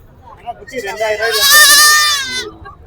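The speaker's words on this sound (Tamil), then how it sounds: "பாருங்க ஆட்டுக்குட்டி" A young goat kid offered for sale gives one long, loud, wavering bleat close by, rising and then fading.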